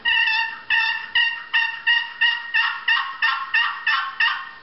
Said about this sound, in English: Box calls are walnut and red oak.